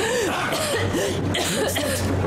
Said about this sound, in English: She's coughing up blood.